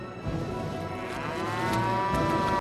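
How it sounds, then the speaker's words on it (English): A cow in the 1999 film Lake Placid lets out one long, loud, drawn-out moo that holds steady for over two seconds before cutting off. "He's worried about the cow now."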